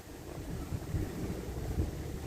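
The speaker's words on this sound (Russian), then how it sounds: "Ой, ветер, а." Gusty wind buffeting a microphone outdoors, a low rumbling roar with a few stronger gusts, no speech.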